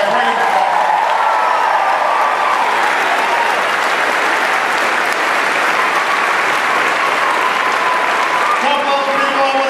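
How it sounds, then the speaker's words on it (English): A large campaign rally crowd in South Portland, Maine applauds President Obama in 2012, with loud, dense clapping and cheering that fills the whole stretch and stays close and continuous. "big round of applause for that great"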